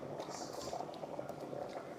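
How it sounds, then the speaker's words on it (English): Water at a steady rolling boil bubbles and churns faintly as a Jamaican cassava dumpling goes into the pot, with soft gurgles continuing throughout. "Gonna drop it in the water."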